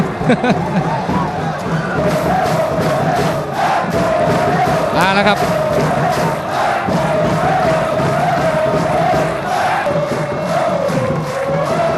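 Football fans in the stands at a Thai Division 1 match cheer and chant loudly and continuously, a dense crowd roar with a commentator speaking over it.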